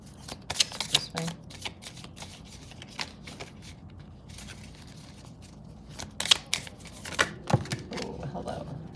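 Tarot cards riffled and shuffled by hand in repeated bursts of crisp papery flutter, close and fairly loud against quiet room tone.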